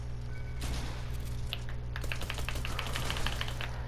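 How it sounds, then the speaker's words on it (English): Rapid gunfire from an enemy bot in a shooting video game, a string of sharp crackling shots at mid distance over steady low game hum, growing denser toward the end. "I think I hear him shooting"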